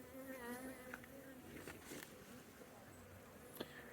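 Honeybees buzz at an open hive as a queen is let out of her cage, with close wavering drones passing near and a steady hum beneath, plus faint handling taps.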